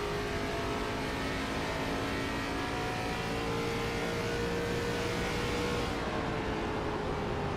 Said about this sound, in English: You can hear how much time he is off that throttle and barely picks it back up